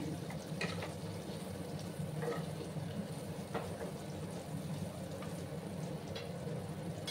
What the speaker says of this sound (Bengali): আর এদিকে আমার ফুলকপিটা ফ্রাই হতে থাক